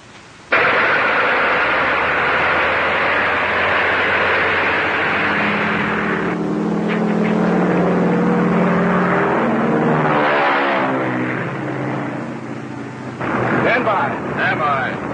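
A propeller plane engine in a 1935 film bursts into life with an abrupt roar, then winds up and settles into a steady drone before tapering off.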